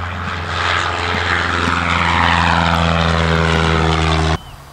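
A propeller aircraft drones loudly and steadily at an airfield on a calm morning before a skydive. The engine's deep tonal buzz builds slightly, then cuts off abruptly near the end.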